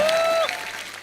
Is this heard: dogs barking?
no